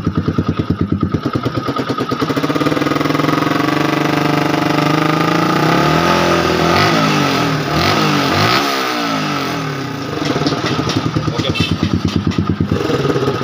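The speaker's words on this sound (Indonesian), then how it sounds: "Jadi akan kita gas ya" A Yamaha R15 motorcycle engine with a stalling, sputtering fault revs loudly and close, with repeated throttle blips rising and falling over a steady running engine.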